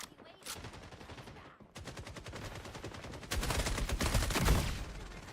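SMG fire in Rainbow Six Siege X, heard as rapid automatic bursts that start moderate and grow louder and denser toward the end, with short breaks between strings of shots.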